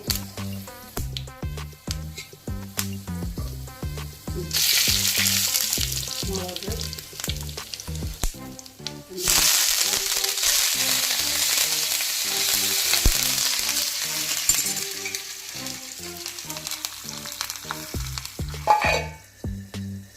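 Fenugreek seeds frying in hot oil for a Kerala mango pulissery, a steady close sizzle that swells loudly midway and stays dense, with light stirring clinks and no talk.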